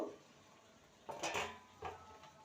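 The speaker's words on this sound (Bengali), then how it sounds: "ঢাকনাটা খুলে দেখে নেব" A lid comes off a cooking pot of chichinga (snake gourd) curry, making faint metallic clinks and a short clatter after a quiet stretch.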